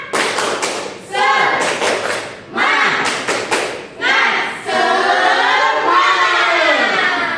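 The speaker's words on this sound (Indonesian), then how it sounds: "1, 2, 3, tepuk semangat" A school class performs tepuk semangat spirit clapping in unison: loud, close bursts of rhythmic claps and thumps in several short patterns, mixed with voices chanting together between pauses.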